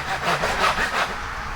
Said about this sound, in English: grabbing a crosscut saw, and having at it